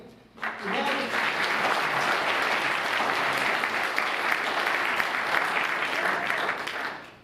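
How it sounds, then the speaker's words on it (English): An audience at a community variety show applauds a pianist, a dense, steady wave of clapping that swells in quickly and holds loud for several seconds before tapering, with some voices mixed in. "Let's give Fred a round of applause and appreciation for his piano tonight"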